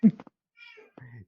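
A female cat meows indoors, a few short, fairly faint meows separated by quiet gaps, the last one drawn out a little longer.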